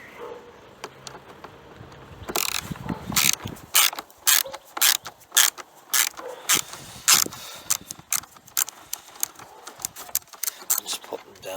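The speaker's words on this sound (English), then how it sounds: "Okay, so what I'm going to do is just start unscrewing these torque screws" Torque screws are unscrewed on a robot lawn mower during a battery replacement, producing a run of sharp, close ratcheting clicks in regular bursts after a quieter start.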